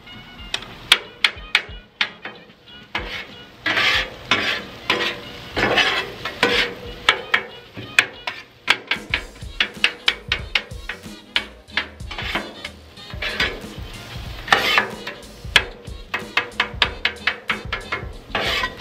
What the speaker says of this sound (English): I'm just chunking it all so it's a little bit finer, so we're not ending up with big chunks. of meat or potato.